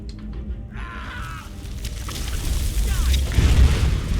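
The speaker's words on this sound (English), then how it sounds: "Oh, fireball." A fireball spell goes off in Skyrim with a rising, rumbling boom that swells and grows louder toward the end, over a faint game background without talk.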